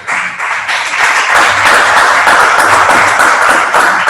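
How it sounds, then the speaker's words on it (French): An audience applauds a speaker at a talk about Haitian history, with sustained loud dense clapping throughout, steady and continuous with no speech over it. "je vous prie de l'applaudir."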